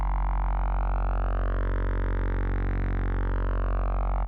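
A steady, buzzy wavetable synthesizer tone with its envelope bypassed, held at constant loudness for about four seconds, its brightness slowly sweeping up and back down before cutting off abruptly.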